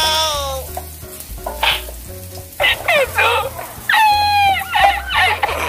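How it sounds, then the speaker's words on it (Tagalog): Garlic fries and sizzles in a hot pan while beef broccoli is being cooked, a steady crackle broken by clattering stirs and a few high, whiny tones. "Lagay tayo ng bawang."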